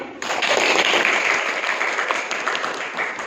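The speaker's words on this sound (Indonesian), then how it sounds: "Itu kita kasih tepuk tangan" A class of students applauds during a lesson, a brief, fairly close burst of group clapping that starts abruptly and tapers gradually.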